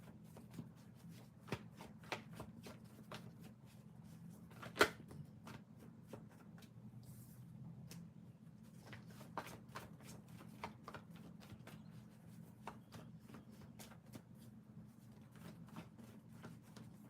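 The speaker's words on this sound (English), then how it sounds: "Give me one moment to shuffle the cards." Tarot cards are shuffled and riffled quietly up close, with soft repeated flicks and taps and one sharper snap partway through.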